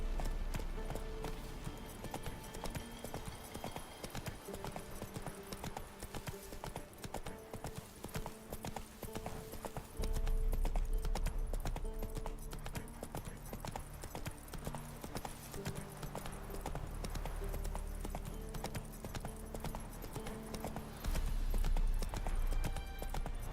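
Roach the horse running in The Witcher 3, hooves clip-clopping in a steady, fast rhythm under continuous game music and ambience, with occasional heavier thuds.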